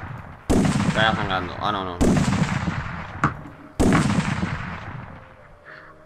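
Repeated gunfire rings out in the survival video game Ark Survival Evolved while hunting a mega Giganotosaurus, three loud bursts each trailing off, with someone talking over the shots.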